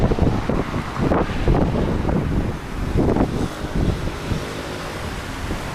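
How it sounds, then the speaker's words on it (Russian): Strong winter wind buffeting the microphone outdoors in Alanya, a steady loud roaring rush with gusty surges throughout, no voices. "А когда ветер дует, ну жесть"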